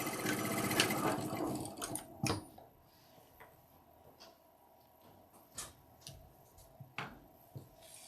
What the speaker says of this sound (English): I am back tacking on these pieces.